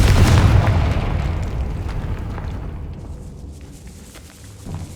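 A Confringo spell explosion in Hogwarts Legacy, a loud close boom with a deep rumbling burst that slowly decays over several seconds, followed by faint footsteps and small impacts.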